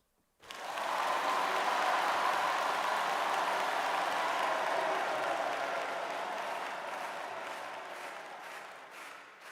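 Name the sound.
crowd clapping generated by an audio plugin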